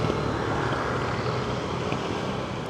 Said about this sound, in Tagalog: Ang ingay ng tambutso ng tricycle sa harap ko.